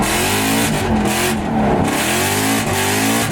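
A Ford Mustang GT drift car with Stainless Works headers revs hard and close, its loud engine climbing and falling in several quick sweeps with no talking.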